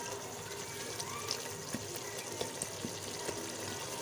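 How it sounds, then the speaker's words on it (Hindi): Water added by spoonfuls to a cooking masala for kaddu (bottle gourd) chicken, a faint steady trickling and splashing with small clinks, fairly quiet and continuous. "अब हम इसमें ऐड करेंगे तकरीबन 3 टेबलस्पून पानी।"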